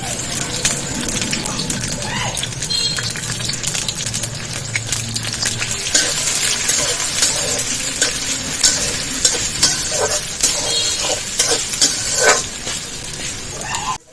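Sliced onions and green chilies hit hot oil in a heated wok, bursting into a loud, crackling sizzle that continues with spattering pops and occasional stirring clinks throughout.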